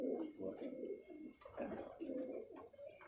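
Tiger-breed pigeons cooing in a loft, a run of soft, throaty coos close by with a low hum of voices underneath.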